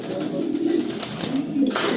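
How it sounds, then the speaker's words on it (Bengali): A deep checker racing pigeon coos in a loft, with low, soft, rolling calls repeating close by. The calls sit over steady background noise. "এটা ডিপ চেকার পায়রা"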